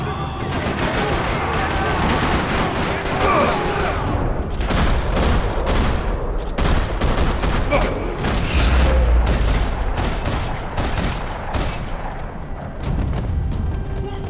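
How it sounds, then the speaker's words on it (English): Sustained gunfire rattles through a parking lot in a video game, with dense bursts and overlapping shots running loud and continuous from start to finish. "Another parking lot rattling with gunfire."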